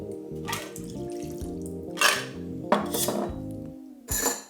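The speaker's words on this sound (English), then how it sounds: "Now discard the water that has melted in our shaker." Melted ice water from a cocktail shaker splashes and trickles out in a few short bursts, with clinking and dripping sounds in between.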